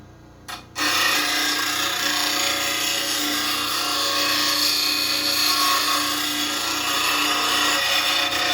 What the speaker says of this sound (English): Let's sharpen the bowl gouge.